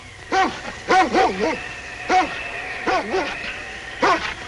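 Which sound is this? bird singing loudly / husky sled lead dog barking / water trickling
husky sled lead dog barking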